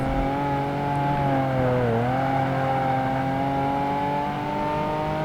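A race car engine in Project Gotham Racing 2 hums with a steady tonal whine that dips briefly as revs drop, then climbs and holds, loud and continuous with no voices.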